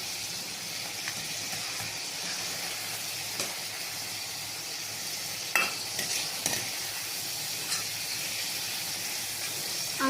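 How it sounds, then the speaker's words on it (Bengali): Shrimp fry in hot oil with mustard, garlic, cumin and ginger pastes: a continuous close sizzle broken by a few sharp clinks and scrapes of stirring. "আজ আমি চিংড়ি মাছ ভাজি করব।"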